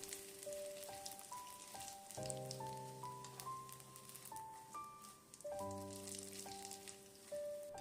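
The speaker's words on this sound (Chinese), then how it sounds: "油热之后，放入一把提前准备好的粉丝，给它炸一下。" Glass noodles deep-fry in hot cooking oil with a faint, continuous crackling sizzle that sits beneath a clear, louder melodic music line.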